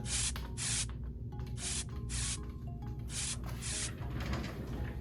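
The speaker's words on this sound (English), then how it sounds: "We're obviously gonna spray him all over the place" Repeated short bursts of a spray bottle hissing solution onto a dog's fur after a skunk spraying, about eight sprays in an uneven rhythm, close by over a steady low hum.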